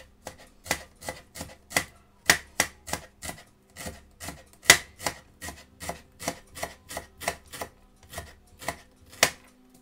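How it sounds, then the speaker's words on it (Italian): Shallots chopped coarsely on a board for a soffritto, a brisk series of sharp, close knife taps in an irregular rhythm, with no talking. "Tagliatelo pure grossolanamente perché tanto poi andrà tritato lui."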